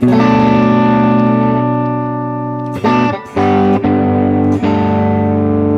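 Sustained electric guitar chords from a DIY Strat kit with PAF-style pickups, through a Guitar Rig 7 JB Soft Clean preset, ring out with a clean, slightly effected tone, interrupted by a few sharp restruck strums and brief pauses.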